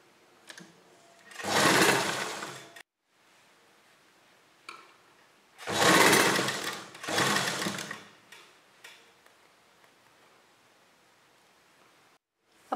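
A sewing machine stitches down the centre of a gathered fabric strip for a neckline, running in three short, loud bursts separated by quiet pauses and faint handling noises.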